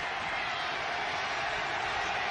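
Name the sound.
stadium crowd at American football game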